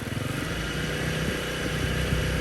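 A Honda CRF300L Rally motorcycle engine runs close by with a steady, even drone, held at a constant throttle with no pauses or voices.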